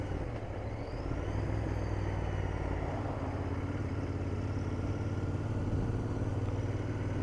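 A Royal Enfield Interceptor 650 motorcycle on a test ride gives a steady, loud engine drone with constant road and wind rush, unbroken from start to finish.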